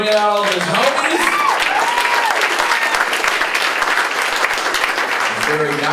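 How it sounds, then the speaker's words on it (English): Loud, dense applause and cheering from a comedy club audience in San Diego, filling all six seconds, with a voice shouting and whooping over the clapping near the start and again at the end. "Big round of applause for Samuel J. Comro for bringing out all of his homies"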